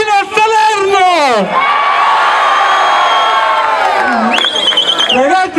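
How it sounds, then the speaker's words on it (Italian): A school crowd roars in a sustained, loud collective shout and cheer lasting several seconds, bracketed by a voice at start and end with high whoops rising near the close. "Facciamo sentire un urlo fino a Salerno!"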